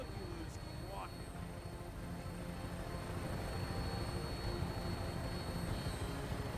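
Vertibird aircraft engine in Fallout 4, a steady broadband rotor and engine roar that holds throughout and swells slightly louder partway in, with a faint voice underneath.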